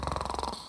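A voice imitates snoring with a quick series of rhythmic, rattling pulses, close and fairly soft, lasting under a second.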